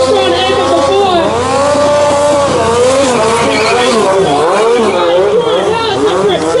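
Stunt motorcycle at a motorcycle show with its rear tire spinning without traction, a loud continuous engine whine rising and falling in pitch with squealing rubber, under an announcer's commentary.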